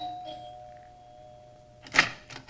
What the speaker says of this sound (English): We took the elevator up and rang the bell.